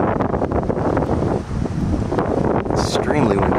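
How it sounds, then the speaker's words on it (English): Strong wind roars steadily across the microphone during a supercell storm, a loud continuous rumbling buffet with gusting swells throughout. "Windy right now."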